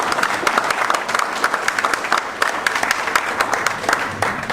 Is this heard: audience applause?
yes